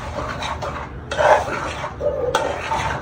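Dry semolina (rava) being stirred and scraped in a pan while cooking, a close, steady scratching and rubbing with bursts of metallic clatter from the utensil against the pan.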